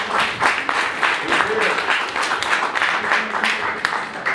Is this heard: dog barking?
no